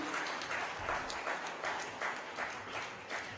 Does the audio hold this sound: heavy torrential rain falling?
no